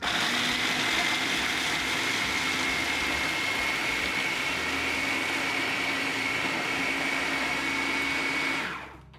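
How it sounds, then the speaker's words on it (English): A spice grinder whirs loudly and steadily as it grinds spices with black pepper into a fine red powder, a close continuous motor whine lasting about nine seconds before spinning down. "Add some black pepper, and we grind that baby up."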